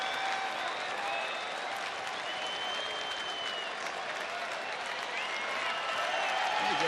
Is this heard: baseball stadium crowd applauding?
yes